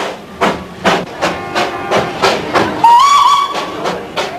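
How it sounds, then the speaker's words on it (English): The little hill train of Kurseong, India, running down the middle of the main street, chugs in loud regular beats about twice a second, with a rising whistle sounding over the rhythm partway through. "the little hill train runs smack down the middle of the main street"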